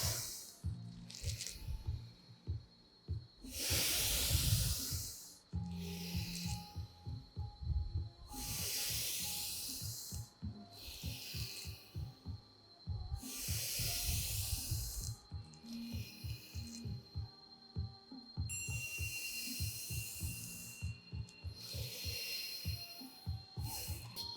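Forceful rhythmic tiger breathing in a yoga exercise done on all fours, with repeated loud breathy inhales and exhales in long hissing bursts, close and steady, over a faint background hum.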